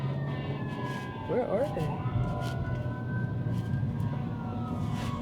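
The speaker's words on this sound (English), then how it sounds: "I hear sirens." Emergency vehicle sirens wail from a distance under steady road noise, faint and wavering, while a person speaks briefly.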